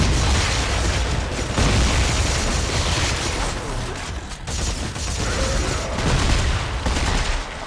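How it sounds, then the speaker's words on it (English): Heavy, continuous combat din in the video game Dead Space 3 with shotgun blasts: booming shots and roaring noise packed tightly together, loud throughout, with a voice talking underneath. "I forgot I had a shotgun."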